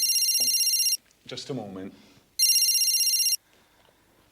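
An old-style telephone bell rings in two loud, close bursts of rapid trilling, with a short spoken reply between them and faint talk after.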